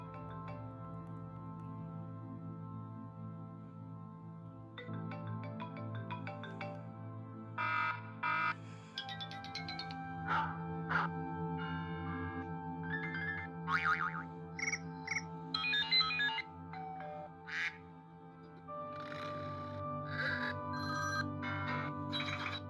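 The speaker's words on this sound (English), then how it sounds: "Let's also take a look at some classic iOS 4 sounds. So let's go to ringtones." A series of classic iPhone iOS 4 ringtones plays one after another: tonal melodies, chimes and bell-like tunes, clear and close, each distinct in rhythm and pitch.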